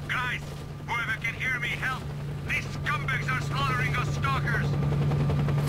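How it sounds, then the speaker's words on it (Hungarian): Attacking helicopters in the S.T.A.L.K.E.R. video game, a continuous rotor drone running underneath frequent overlapping speech, with occasional sharp bursts that may be gunfire. "Helikopterek vannak."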